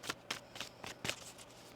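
Tarot cards shuffled by hand in five or six quick riffling bursts, each a brief papery flutter separated by short pauses, close and fairly soft.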